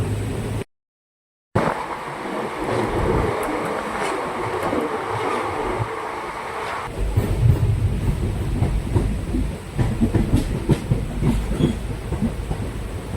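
An empty passenger train between Nimtita and Azimganj rumbles steadily along with rhythmic clattering and a constant roar, briefly cutting out at the start, then growing heavier and louder partway through.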